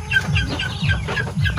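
Heritage chickens on a Philippine farm, mostly Decker Brown with some Rhode Island, cluck steadily in a close, continuous flock chorus with repeated pulsing calls and no talk.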